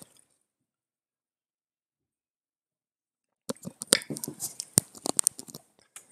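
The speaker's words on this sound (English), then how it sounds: "just get a drink of water" Someone takes a drink of water after several seconds of silence: a short, close cluster of clicky sips, gulps and small handling noises, with no talking.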